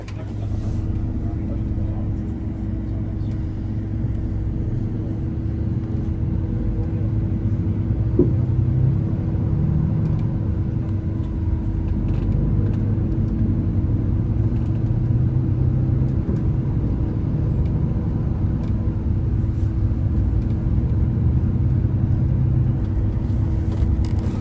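A coach bus rides through Ghent after disembarking from a river cruise, with a steady low engine and road rumble that holds constant throughout, and no clear talking.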